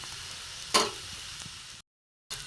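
Food shallow-frying in a little oil gives a close, steady sizzle with one brief louder crackling burst, then a short dead gap before the sizzle resumes.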